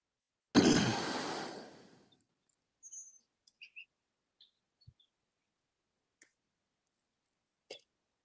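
A short breathy rush of air is followed by a handful of faint, scattered bird chirps, each brief and spaced out against near silence.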